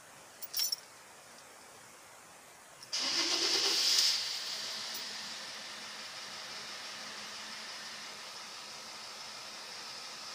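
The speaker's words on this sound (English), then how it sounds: "So now I have to start the engine and let the oil filter to fill with oil" A Mercedes S-Class 320 CDI diesel engine turns over and fires after a brief jingle of keys, a short cranking burst settling into a steady, moderate idle.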